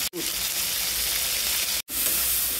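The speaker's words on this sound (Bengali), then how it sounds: "চিংড়ি মাছ ভেজে নিব" Prawns fry in hot oil in a wok with a loud, dense, continuous sizzle that cuts out briefly twice, without talking.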